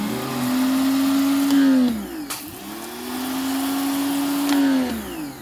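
A motorized sprayer soaks windows during exterior cleaning work. A loud, close motor whine holds steady, dips and drops away, then rises again to a second sustained run.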